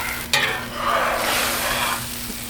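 Tortillas and toppings frying on a hot griddle, a steady loud sizzle with a sharp scrape or flip near the start, then easing to a softer hiss.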